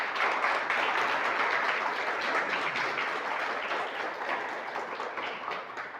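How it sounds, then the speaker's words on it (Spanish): Church congregation applauding during a sermon, a dense, sustained roar of many hands clapping that fills the room evenly and fades slightly toward the end, with no voices over it. "Dele un aplauso al Señor."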